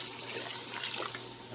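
Water poured from a tap into a cooking pan that also holds basil, a brief steady splashing rush at moderate level, with no talking.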